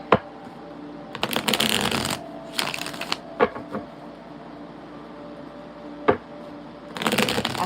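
A deck of tarot cards is shuffled and split by hand, giving several bursts of riffling, flapping card noise with sharp taps and short quiet gaps between them, close and clear.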